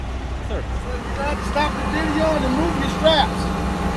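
A truck loads a flooded car at a Copart auction yard, its low engine rumble running steadily in the background while people talk over it.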